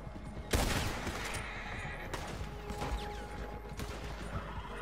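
Horses neigh and whinny in the Red Dead Redemption Online game during a bounty-hunt shootout, one loud whinny standing out up front amid dense gunfire and crashing noise.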